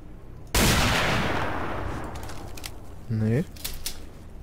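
Gunfire in S.T.A.L.K.E.R. Shadow of Chernobyl with the Complete 2009 mod, a loud blast that decays over about two seconds, then a short second burst a few seconds later, with someone talking faintly underneath.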